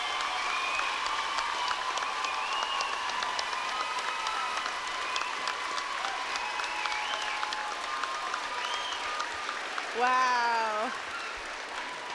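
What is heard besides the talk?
crowd applauding and cheering at cheer competition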